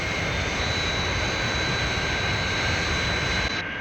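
Jet engines of the Fireflash airliner in a Thunderbirds puppet episode roar as a steady, loud, continuous broadband rush with a high whine, sustained throughout with no voices.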